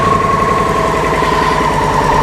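A 2010 Victory Vision motorcycle engine running steadily right after start-up, a loud, close, continuous mechanical rumble with an even pulsing beat and no voices.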